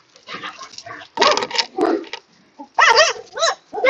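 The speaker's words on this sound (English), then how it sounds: "my dogs are very loud." Several loud, close dog barks and yelps come in uneven bursts with short pauses between them, some rising into higher-pitched whines.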